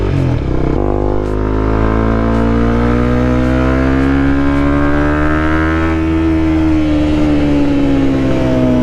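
A motorcycle engine climbs steadily toward redline, a loud close drone rising in pitch over several seconds before easing slightly, heard from the rider's position.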